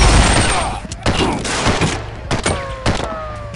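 Rapid gunfire in the tactical shooter SWAT 4 (SEF mod), including shotgun blasts, cracks out in loud overlapping bursts across the whole stretch, with short sharp reports near the end.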